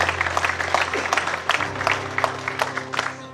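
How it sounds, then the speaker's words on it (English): An audience claps for a retired Chevrolet dealer of almost 40 years, a modest round of scattered, distinct hand claps over a low steady hum, with some voices faintly mixed in. "Yeah, that deserves a round of applause."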